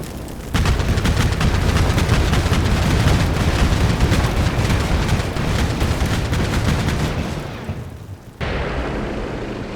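Artillery in the Combat Mission Black Sea war game lets loose with a loud, sustained roar of firing and rumbling blast that fills most of the stretch, fading briefly before another burst near the end.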